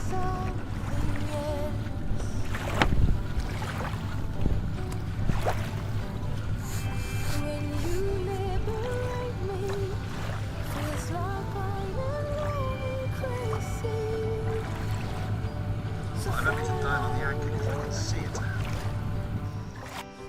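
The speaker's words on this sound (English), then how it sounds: "reverse for 10 to 20 seconds at half reverse revs" A steady low boat engine drone runs throughout at half reverse revs while anchoring, with faint voices and watery splashes over it.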